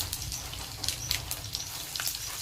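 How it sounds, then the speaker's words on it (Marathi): Mustard seeds crackle and pop in hot frying oil, a dense, steady patter of small sharp snaps close up over a constant low sizzle. "मोहरी चांगली कडकड वाजूस्तोपर्यंत तळून घ्यायची."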